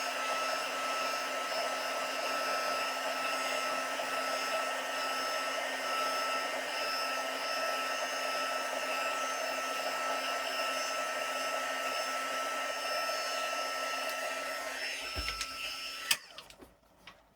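A hair dryer blows steadily and loudly over wet watercolour paint, a constant whirring roar that runs unbroken before cutting off near the end with a few small clicks.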